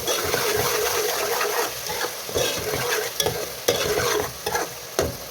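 Garlic fries and is stirred in hot oil for an eggplant and dried fish curry, a dense, continuous sizzle close up with scraping stirs and occasional sharper clinks of the utensil against the pan.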